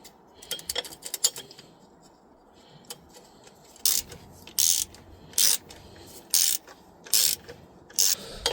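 A ratchet tightens a bolt on the power steering of a VW T4 van, starting with scattered ticks and then settling into a regular series of short, close clicking bursts with pauses between them, and no talk.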